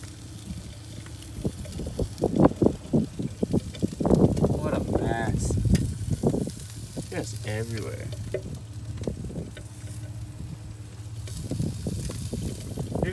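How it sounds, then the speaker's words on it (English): Yogurt drink poured in as engine oil cooks inside a failing car engine, giving a close, uneven sizzling and bubbling hiss under loud talk from several people nearby. "can hear the water boiling."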